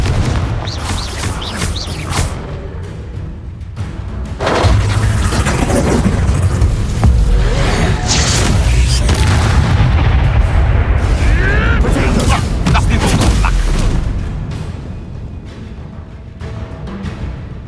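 Fire spells in the Hogwarts Legacy video game on PS5 go off as a string of loud, deep booming explosions amid dense, sustained battle noise, peaking in a long roaring stretch in the middle.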